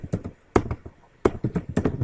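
Several bursts of keystrokes on a computer keyboard, quick irregular taps clustered in short runs with brief pauses, close and fairly clear with no talking.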